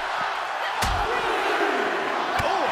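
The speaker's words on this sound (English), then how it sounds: "The roar of this crowd has been building, and they are at a fever pitch right now." A wrestling arena crowd in the WWE 2K23 video game roars loudly and steadily through a match, with a couple of sharp slams punching through the din.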